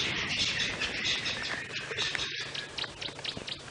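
Many birds call and chirp at dawn on a safari drive in the bush, where Franklin's spurfowl are among them. A steady, fairly loud chorus of overlapping tweets and calls runs throughout with no talk.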